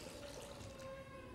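Water pours steadily from a vessel during a church baptism, a soft continuous trickle and splash heard faintly and close, with no talking over it.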